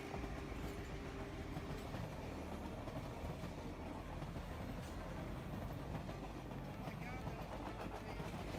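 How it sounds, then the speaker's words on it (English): A train rolls through floodwater during monsoon season, giving a steady, loud broadband wash of churning water and rumbling rail noise that holds for the full length without a break. "That train just surfed it straight through monsoon season like it's no big deal."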